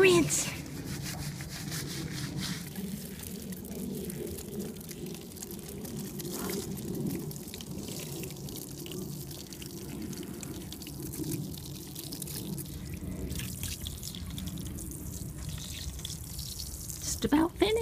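Water runs steadily over a Staffordshire Bull Terrier during a bath rinse, a continuous splashing wash with soft rubbing, close and moderately loud, with a brief sharper burst near the end.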